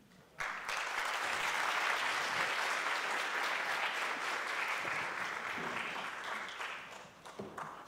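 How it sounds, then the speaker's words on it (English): A lecture audience at a law and history masterclass breaks into steady, dense applause that swells quickly, holds for several seconds, then thins out into scattered final claps. "Another round of applause, please, for Prof Ngcukaitobi."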